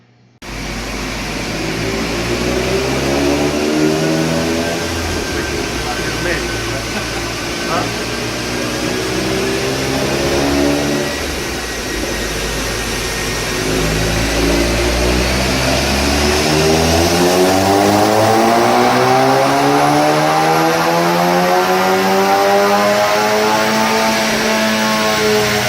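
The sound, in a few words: 2015 VW MK7 GTI with IS38 turbo on dyno run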